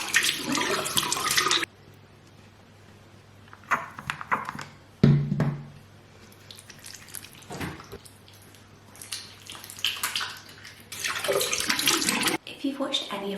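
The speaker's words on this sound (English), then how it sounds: "now I'm just gonna wash my face" Running tap water splashes into a sink during a morning face wash, loud bursts of flowing water broken by quieter pauses, a brief clunk and splashes as hands scoop water, close by.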